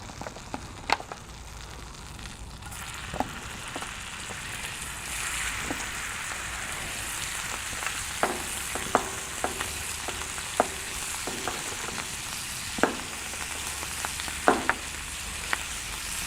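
About a pound of shrimp sizzling on the side burner of a stainless Monument Mesa 400 four-burner gas grill, a soft steady hiss dotted with sharp pops and spatters, close and unvoiced.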